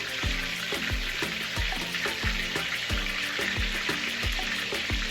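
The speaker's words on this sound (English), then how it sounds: "So we're going to start dropping our fish in the oil." Fish dropped into hot bubbling oil for Jamaican escovitch fish, giving a steady broadband sizzle with repeated low thumps and clatters from the pan, close and continuous throughout.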